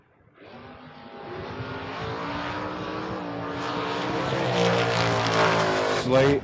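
Drag racing cars, one a Camaro, launching side by side at a Coastal Clash bracket race, their engines swelling into a loud sustained roar that builds steadily and peaks near the end.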